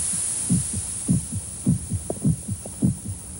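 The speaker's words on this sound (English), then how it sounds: "The sound of the heart pounding against the ribs." A heartbeat pounds in a steady double-thump rhythm, deep and muffled, over a constant low hum.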